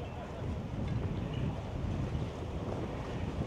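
Steady wind blowing down the lake at Watkins Glen Marina on Seneca Lake, a continuous low rushing roar with microphone buffeting, loud and close throughout with no clear pauses.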